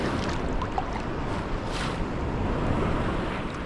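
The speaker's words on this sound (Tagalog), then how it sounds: "Si Nuno na na-overwhelm sa lakas ng alon" Steady roar of ocean surf with waves washing continuously, loud and close, with some wind noise on the microphone and no talking.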